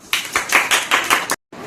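Schoolchildren in a classroom clap together during an English language game, about six loud, close bursts in a quick uneven rhythm, then a brief silence before clapping starts again.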